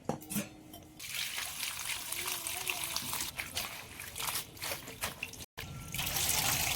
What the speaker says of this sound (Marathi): आता सर्वात अगोदर मेथी धुवून घेऊ आपण